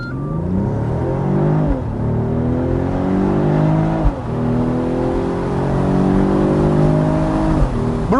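A Mercedes E450 Cabriolet with a turbocharged engine pulls away from a standstill, its loud engine climbing steadily through the revs with several brief dips at gear changes. No one speaks.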